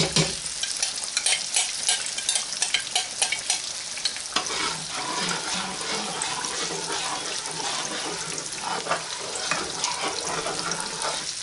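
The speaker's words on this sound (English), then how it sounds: "I'm going to add it, and we're going to stir it quickly so it all dissolves" Grits being stirred quickly into boiling water in a pot, busy scraping and swishing over a bubbling, hissing boil, close and continuous with uneven bursts of spoon movement, no speech.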